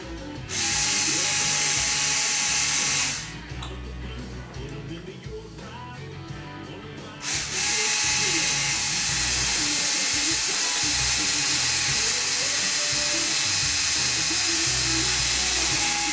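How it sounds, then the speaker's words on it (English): A loud, steady mechanical whine of a power drill running close by, briefly easing and then resuming with a rough, grinding edge. "And try to drill the bottom one on it."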